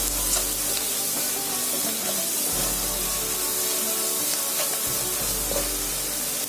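Mutton roast masala sautéing in a pan, a steady close sizzle and hiss of frying spices with soft stirring scrapes throughout, running alone without talk.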